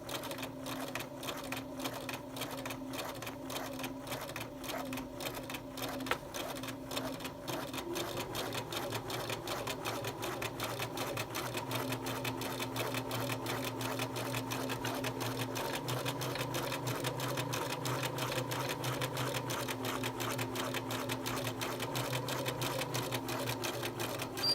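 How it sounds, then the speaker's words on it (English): A sewing machine runs steadily for about 25 seconds, stitching up the side of a skirt placket to the edge, with a fast continuous needle rhythm that keeps an even loudness throughout and no talk over it. "I'm now going to stitch up the other side to"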